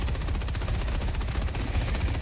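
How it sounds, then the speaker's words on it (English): Heavy machine gun in Helldivers 2 firing a sustained, dense automatic burst that stays loud and steady throughout, with rapid rounds blurring into a continuous roar and no talk. "Onto the heavier sibling of the machine gun, we have the heavy machine gun."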